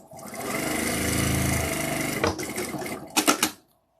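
A sewing machine stitches quilt blocks together in a continuous whirring run for a couple of seconds, followed by a few short bursts of stitching before stopping; nobody talks.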